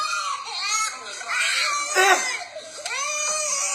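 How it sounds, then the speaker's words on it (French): A child cries nearby with loud, high wailing sobs that rise and fall in several bursts while an adult voice talks over them. "l'enfant qui pleure."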